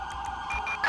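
Ambulance siren in the police mod of the video game GTA V, a brief electronic wailing and yelping tone repeating in quick pulses, moderately loud and alone for under a second.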